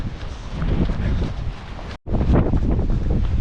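Strong wind buffets a microphone on an exposed walk, a loud continuous roar with gusting swells, briefly cutting out for an instant before resuming just as hard.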